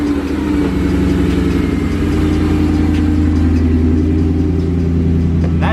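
BMW E39 M5 with its S62 V8 starts and settles into a loud, steady, deep rumbling idle close by, running continuously without voices.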